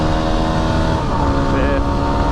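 Yamaha WR250R motorcycle pulling hard through its gears on an open road, a loud, continuous engine drone close by with rising pitch between shifts and steady wind rush.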